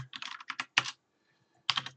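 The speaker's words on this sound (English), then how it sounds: "Typing in all of his stats here, or her stats rather." Bursts of computer keyboard typing while stats are entered into a Pokémon Ultra Sun RNG calculator, with quick clustered keystrokes, a pause, then another short run, close and fairly quiet.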